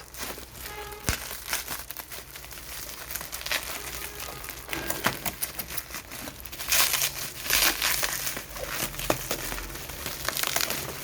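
Crinkling plastic wrapping and rustling packaging as a boxed alarm system is handled and opened, continuous scratchy crackles that swell louder toward the end.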